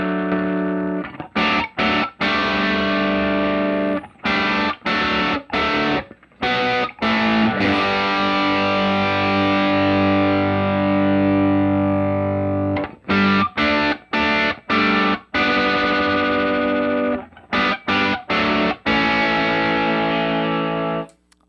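An overdriven electric guitar played through a Line 6 Helix preset rings out loud, sustained distorted chords with slight hum, repeatedly struck and cut off with short silent gaps.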